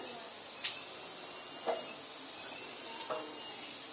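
Potatoes frying in a covered pan over medium heat for chicken singara, a soft continuous hiss and sizzle with a few faint clinks, close but quiet, no voices.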